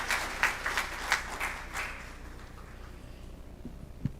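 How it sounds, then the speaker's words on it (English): Audience applause for Division 1 winners and participants at a school board review session, a few scattered claps building briefly in the first two seconds, then fading into quiet room noise. "let's give all of our Division 1 winners and participants a round of applause"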